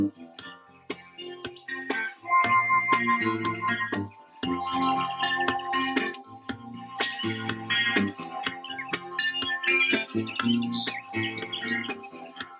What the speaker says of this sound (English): The only sounds you hear are the birds and crickets.